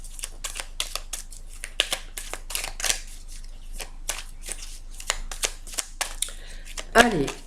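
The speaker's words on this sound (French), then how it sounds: "je vais d'abord bien battre les cartes" Tarot cards being shuffled by hand in a series of crisp riffling bursts and short slaps, fairly close and steady through the stretch, with a few louder flicks near the end.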